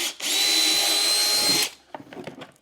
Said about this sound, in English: So just, drill that out there.